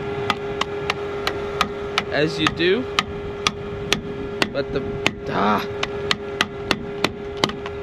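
Hammer blows strike a steel chisel in a workshop, sharp metallic hits repeating at a steady rhythm over a constant mains hum, with someone talking between strikes.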